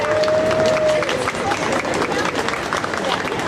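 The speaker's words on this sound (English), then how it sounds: "Let's give everyone a round of applause" Audience applause at an English village faire, a steady dense wash of clapping lasting several seconds, fairly close, with crowd voices mixed in.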